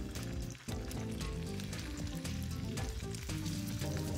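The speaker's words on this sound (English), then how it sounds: "you want to hear that sizzle" Loud, steady sizzling of scallops pan-searing in a hot pan, a dense crackling hiss that continues without a break, close up.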